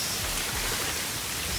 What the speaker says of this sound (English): what kind of rain we got today?